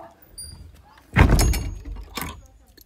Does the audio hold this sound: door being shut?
yes